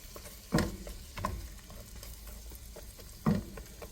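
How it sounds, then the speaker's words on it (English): Onions cook in a pan with butter, salt and pepper for a chicken pie filling, giving a soft continuous sizzle and several louder stirring scrapes close by, no talking. "So I just added the onions, and I'm going to put some salt to let it cook with some salt and pepper."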